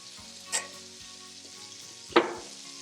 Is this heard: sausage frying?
yes